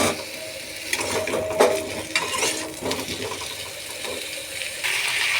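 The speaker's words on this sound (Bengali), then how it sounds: "আলু পটলটাকে আমি নুন জাফরান দিয়ে আমি ভেজে নেব" Potatoes and pointed gourd fry in a pan with salt and saffron after pressure cooking, giving a close, continuous sizzle with scraping stirs and clatter against the pan. No voices are heard.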